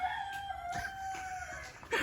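A rooster crows once, a long drawn-out call heard from a short distance, with a faint clucking at the end and no talking.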